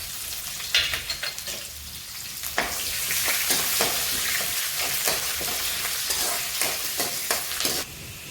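Onion, curry leaves and urad dal sauté in hot oil for upma, a busy close-up sizzle punctuated by repeated scraping and stirring strokes of a spoon against the pan throughout.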